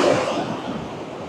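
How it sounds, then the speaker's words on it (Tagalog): Steady broadband roar of surf on a beach in Boracay, Philippines, loud and close, with churning water rolling continuously and no voices. "Even yung paghampas ng alon, parang art pa din."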